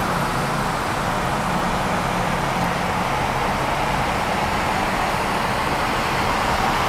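Dense, steady roar of multi-lane highway traffic on the 401 near Toronto, with cars crawling in heavy congestion; a continuous broadband wash of engines and tyres holds at an even level throughout, with no voices.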